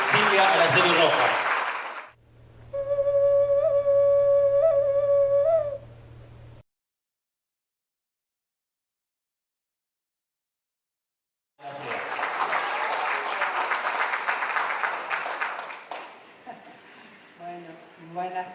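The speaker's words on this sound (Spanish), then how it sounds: "Fuertes los aplausos para la diputada provincial" Applause rises from a crowd at an education congress in Posadas at the start, a steady hooting tone follows, then after a silence a long burst of clapping returns and fades.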